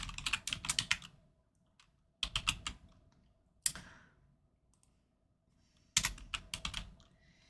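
Fingers type on a computer keyboard in four short bursts of rapid, close clicking, with quiet pauses between them.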